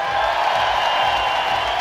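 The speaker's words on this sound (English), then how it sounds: "you heard the crowd" A basketball arena crowd roars steadily during an ENBLeague game between CSO Voluntari and Bakken Bears Aarhus, a sustained, fairly loud wash of cheering with a commentator faintly underneath.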